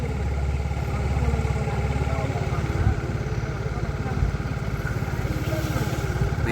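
A boat's motor chugs steadily close by on Kayamkulam backwater lake in Kerala, a continuous low droning rumble with a rapid regular beat, running without pause over the faint wash of water.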